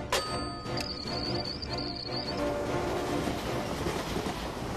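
A train speeds along the rails in a film, a dense rushing roar with a high metallic squeal early on, continuous and loud throughout.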